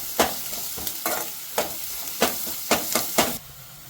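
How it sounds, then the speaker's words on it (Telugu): Ginger garlic paste frying with onions in a pan for chole masala curry, a steady close sizzle broken by about eight sharp spatula scrapes and stirs at an uneven rhythm, with no talking. "ఇప్పుడు అల్లం వెల్లుల్లి పచ్చివాసన పోయేంత వరకు వేయించుకోండి."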